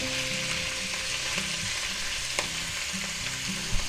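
Mushrooms sautéing in a hot pan for a garlic butter dish give a steady, close sizzle and crackle, with occasional scraping clinks from stirring.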